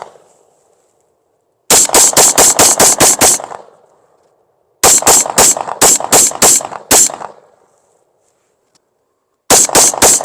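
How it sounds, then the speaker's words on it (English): Close-range rifle fire with .223 full metal jacket rounds striking a rubber target, in three rapid strings of sharp, loud cracks, about seven shots each, with quiet gaps between. "now we're going to take some shots at this up close with 223 just full metal jackets"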